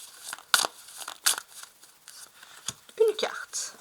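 A card drawn from an oracle deck of witch-story cards, several quick papery swishes and card shuffles close to the microphone, with a soft voice speaking near the end.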